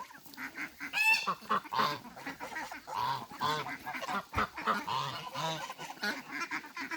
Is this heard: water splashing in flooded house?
no